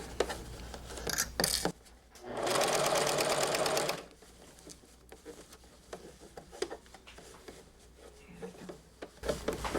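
A sewing machine stitches the sleeve of a bolero jacket in one loud, steady burst of rapid whirring lasting under two seconds, with quieter handling noises and brief rustles of fabric around it.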